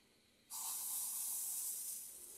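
Batter poured into a hot pan on a stove at medium heat for milk chitoi pitha hisses loudly and suddenly, a steady bright sizzle that holds for nearly two seconds before easing slightly, alone without talk.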